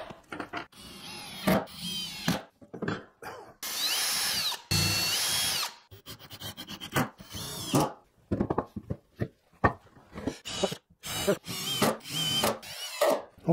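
A power drill pre-drills holes in wooden boards for 2.5-inch screws while building a wishing well, in short, loud bursts separated by pauses and handling noise.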